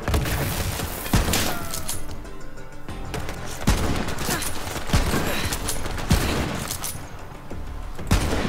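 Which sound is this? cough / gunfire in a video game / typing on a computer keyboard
gunfire in a video game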